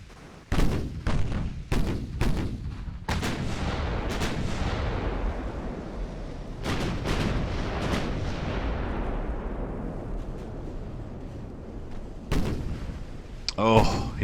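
Heavy 9-inch naval guns firing in the video game Ultimate Admiral: Dreadnoughts, several deep booming salvos in quick succession at the start, a long rumbling roll, then further blasts near the end.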